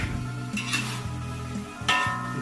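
Boiled stingray pieces going into a pan of cooked spice paste, with scraping and stirring of a utensil against the pan over a soft sizzle, a few louder clatters standing out.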